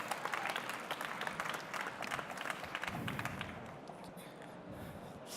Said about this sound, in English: round of applause for these people